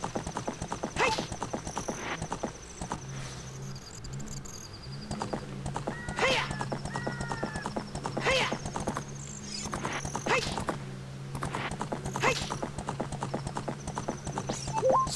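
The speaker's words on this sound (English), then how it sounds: "Especially when your horse just stops galloping for no reason." A horse gallops in The Legend of Zelda: Ocarina of Time, its rhythmic clip-clop hoofbeats running steadily throughout, broken by occasional whinnies and neighs.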